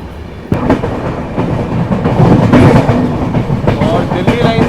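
The 12242 Amritsar–Chandigarh intercity runs on rails in cold, rainy weather, its wheels giving a loud clickety-clack over joints and a heavy rumble that swells midway, with a faint voice at times.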